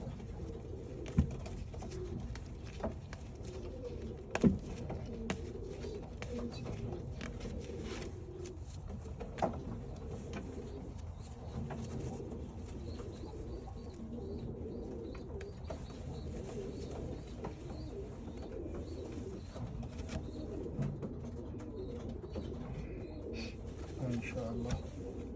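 A pair of grey pigeons cooing softly and repeatedly in a loft or nest box, low rolling coos over a steady background hum, with occasional faint clicks and a little distant talk.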